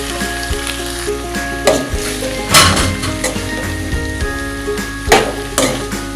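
Macaroni stirred in a sizzling pan for chicken macaroni, a steady fry hiss with scraping spoon strokes and a few louder clanks against the metal, close up and without talk.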